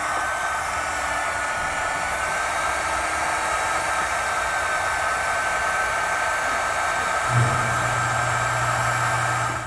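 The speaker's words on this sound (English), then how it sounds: "with this being the heat shrink, we'll come back with our heat source and seal up the ends" A heat gun blows with a steady, loud broadband rush while shrinking and sealing heat-shrink tubing over crimped butt connectors during a trailer tail light converter wiring install on a 2021 BMW X1, running continuously, with a low hum joining near the end.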